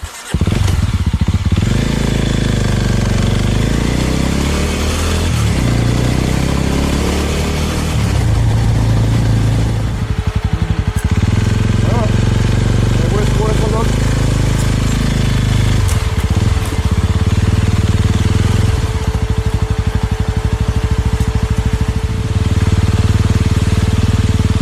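A touring motorcycle rides along island roads in the Banggai Islands of Sulawesi, Indonesia, its engine droning loud and steady throughout with shifting revs and a few gear changes.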